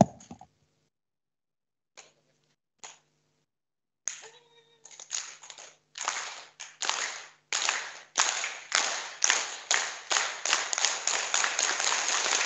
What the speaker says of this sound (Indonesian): Guncang bumi itu akan dimulai dengan tepuk tangan